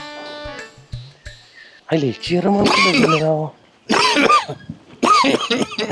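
Several harsh coughs and throat-clearing sounds close by, in bursts with short pauses, mixed with some voiced vocal sounds.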